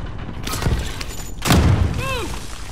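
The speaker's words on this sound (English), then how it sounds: "Throwing Molotov." A Molotov cocktail is thrown and bursts in a video game firefight: two sharp, close whooshing bursts about a second apart, the second heavier, followed by a brief shouted voice.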